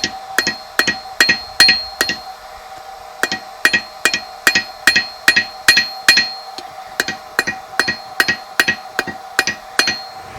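Hammer blows land on hot metal at a forge during a forge-weld attempt, striking in a steady, rhythmic series of sharp, ringing hits that are loud and close, with short pauses between bursts.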